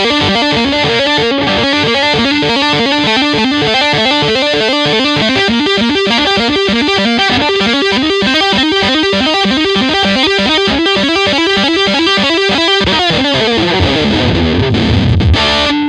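Loud distorted electric guitar plays a fast, steady tapped pattern of repeating notes, then slides downward into a fading, swirling tail.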